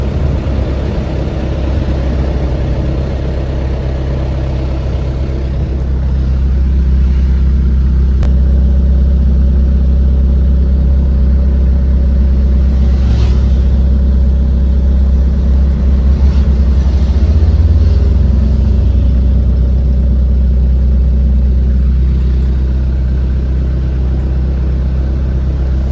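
A rusty 1996 Mitsubishi Colt diesel minibus, a 100 PS Fuso engine, drones loudly and steadily from close by, its exhaust booming in a deep continuous rumble that swells slightly midway.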